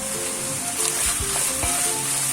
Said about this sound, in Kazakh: Фаршты бірден салып алмаңыздар, шетінен салып қуырыңыздар. Сонда шашырап тұрады.